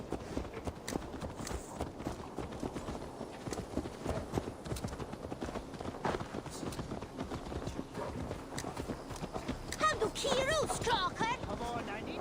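Horse hooves clip-clop steadily at a walking pace in the game Assassin's Creed Valhalla, with light wind and ambient game sounds beneath the clear, even footfalls.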